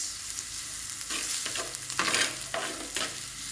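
Onions frying in very hot oil for a Mangalore-style chicken puli munchi, a close, continuous sizzle broken by several bursts of stirring about every half second.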